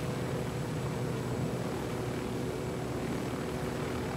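A helicopter in the video game Ghost Recon Wildlands, a steady loud rotor and engine drone that holds evenly throughout with no break.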